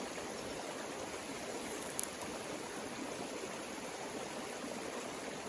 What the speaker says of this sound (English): We don't know how the video's going to turn out because of the creek.